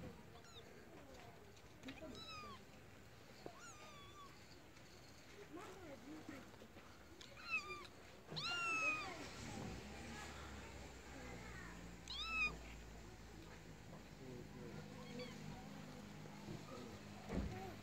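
Kittens meow repeatedly while being fed outdoors on a street in Tbilisi. The high, thin cries come in scattered bursts over faint street ambience, with voices in the background.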